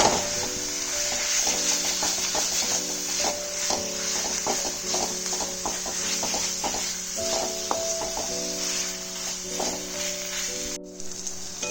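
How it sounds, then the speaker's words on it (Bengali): Cabbage being stirred and mixed with spices in a hot pan for a vegetarian Bengali dish, continuous sizzling with repeated scraping and clinking of a spatula against the pan, fairly close, no talk. "বাঁধাকপিটাকে ভালো করে মশলাটার সাথে মিশিয়ে নিতে হবে।"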